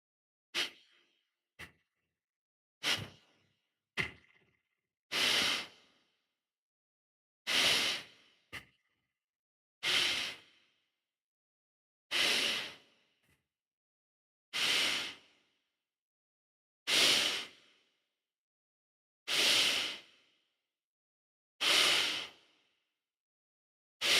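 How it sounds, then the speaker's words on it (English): Slow, steady nasal breathing during a guided relaxation exercise, each inhale and exhale through the nostrils drawn out as a soft airy rush, repeating about every two and a half seconds, close and alone with silence between. "in through the nostrils, out through the nostrils"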